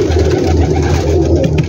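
Pigeons cooing on a rooftop loft, a close, loud, continuous throaty cooing from several birds with no talk.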